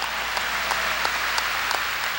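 Church congregation at a 1992 Sunday worship service applauding steadily, a dense, even wash of clapping from many hands with no talk over it.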